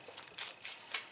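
Tarot cards being shuffled by hand, with four quick riffling bursts spaced through a short stretch, close and fairly soft with no talk over them.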